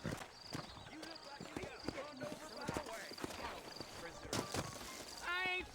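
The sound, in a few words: horse hooves clip-clopping in a video game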